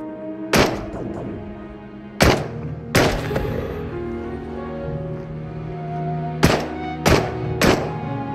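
Gunfire in the VR game Into The Radius, with sharp, loud single shots spaced irregularly, some in quick pairs, each followed by a short echoing tail over a steady low background hum.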